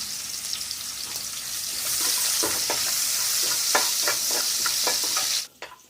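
Chopped onions sizzle steadily in a wok of hot oil for a chicken roast, with repeated crisp scrapes of stirring building through the middle before the frying cuts off abruptly near the end.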